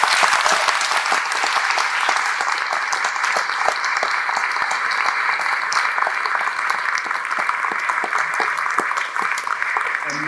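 An audience at a nature and climate panel event in Totnes gives the panellists a sustained round of applause, dense and loud hand clapping filling the room continuously.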